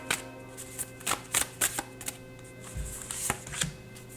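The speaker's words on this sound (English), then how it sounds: "I'm shuffling the same card deck" An oracle card deck being shuffled close up, a run of quick papery riffles and flicks in uneven bursts, with no talking.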